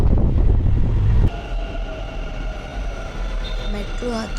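Bangalore metro train ride, with a loud low rumble and rush of the carriage for the first second before settling into a steadier hum with faint tonal whine and rattles, close and continuous.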